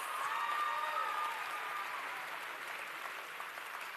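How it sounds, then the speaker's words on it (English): Sustained applause from a ceremony audience honouring manufacturing and engineering technology cluster winners at the WSA 2025 closing ceremony, a steady dense clapping that holds loud throughout and eases only slightly toward the end. "please, a big round of applause for all of our manufacturing and engineering technology"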